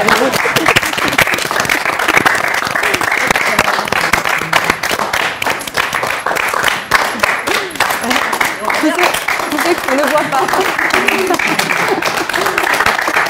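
A crowd claps steadily and loudly throughout, a dense wash of applause with a voice speaking briefly over it.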